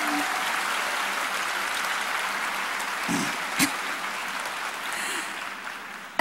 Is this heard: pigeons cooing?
no